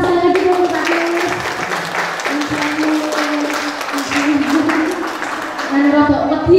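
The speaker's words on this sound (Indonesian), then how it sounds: "Kita beri tepuk tangan sekali lagi untuk Pak Nulis." Audience applause at a Javanese comedy festival talk show, loud and sustained across the whole stretch, with voices and music tones running underneath.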